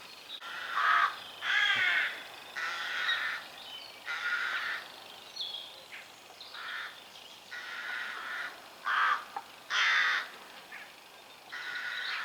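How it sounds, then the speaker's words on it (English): Crows in a rookery along a countryside walk in the South Downs, Hampshire, caw repeatedly in loud, harsh bursts at irregular intervals, several birds overlapping, fairly near, with no talk. "Sound of a rookery, fantastic sound."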